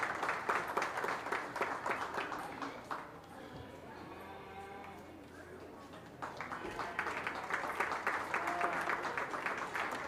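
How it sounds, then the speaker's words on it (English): Audience applause at a county fair open beef show, clapping for exhibitors showing heifers in the ring, steady clapping before and after a brief lull with a talking announcer. "let's give these exhibitors a nice round of applause"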